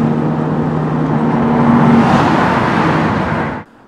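A Ferrari 458 Spider drives through a tunnel, its loud engine note reverberating and holding a steady tone before a slight swell. The sound then cuts off abruptly near the end.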